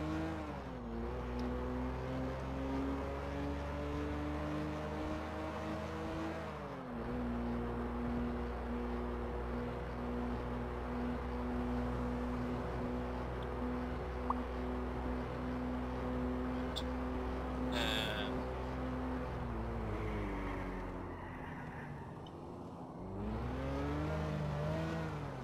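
Car engine in a video game, a steady droning motor that rises and falls with gear changes and revving, continuous and close, with brief squeal-like sounds near the end.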